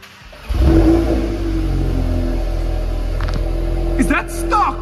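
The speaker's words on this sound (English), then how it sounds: "let's hear this 8R with an acrobatic exhaust on the back" A Porsche 8R fitted with an aftermarket exhaust revs steadily, a loud, sustained engine drone held for several seconds, with brief overlapping voices near the end.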